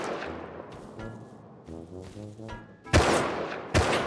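Two loud, abrupt bursts of gunfire in the survival game Rust cut through a quieter stretch of low game sounds, the second burst arriving shortly after the first.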